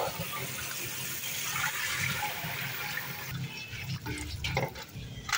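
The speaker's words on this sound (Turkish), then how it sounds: "Pirincimizi de süzüyoruz." Soaked rice being drained through a strainer in a kitchen while making rice pilaf with vermicelli, a steady close rush of running water with some splashing and clatter, fairly faint overall.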